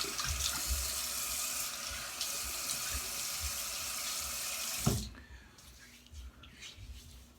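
Water runs from a tap in a steady rush while a freshly shaved head is rinsed, then cuts off abruptly partway through, leaving quieter drips and splashes.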